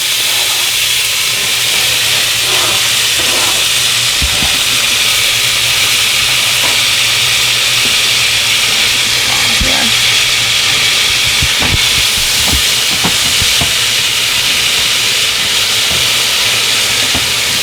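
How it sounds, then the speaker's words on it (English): Onion, tomato, green peppers and garlic sweat in a hot pan with a steady, broad hiss that runs the whole time, broken by occasional clicks and knocks of utensils against cookware. "turn on the heat on this so that I can sweat out the onion, tomato, green peppers, and garlic"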